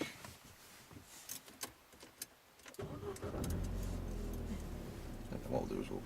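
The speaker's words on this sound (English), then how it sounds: "And start the engine." A car engine cranks and catches during a driving lesson, turning over after a few quiet cabin clicks and settling into a steady idle up close; an instructor's voice is heard briefly.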